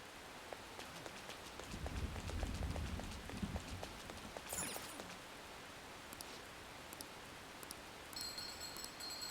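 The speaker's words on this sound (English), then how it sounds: "This rain is intense." Video game rain pattering on surfaces with scattered distinct drops, a low rumble building briefly, then continuing softly.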